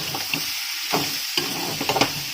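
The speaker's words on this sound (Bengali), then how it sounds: "নাড়াচাড়া করে নামিয়ে নেব" A spiced samosa filling sizzles in a pan while a utensil stirs it, making sharp, irregular scraping strokes close by.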